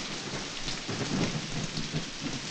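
Steady nighttime rain pours down with a low rumble of thunder rolling underneath, a dense, even hiss without voices.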